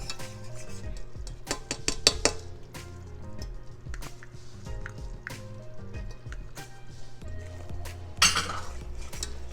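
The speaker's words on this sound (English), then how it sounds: "Keep stirring so it won't stick" A utensil stirs a cheese sauce with Parmesan and pepper jack in a pan, making repeated scraping and clinking strokes against the metal with a faint sizzle beneath.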